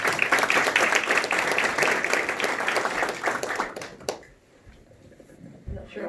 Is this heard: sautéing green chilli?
no